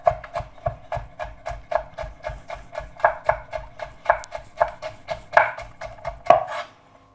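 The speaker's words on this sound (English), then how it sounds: "slice the butternut squash into thin slices" Butternut squash being cut into thin slices with a knife on a chopping board: a rapid, steady run of crisp, close knocks, roughly three per second, with no voices.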